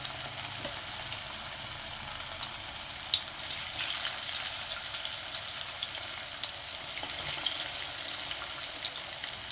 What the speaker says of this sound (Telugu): ఇవి చల్లారాక ఇప్పుడైతే కొంచెం కొంచెంగా ఆయిల్లో వేసి మనం డీప్ ఫ్రై చేసేసుకోవాలి